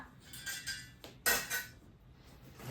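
A large size-11 cast iron tawa griddle bought cheaply at a village fair is handled, giving a few metallic clanks and knocks, with one louder bright clang near the middle, close and fairly quiet.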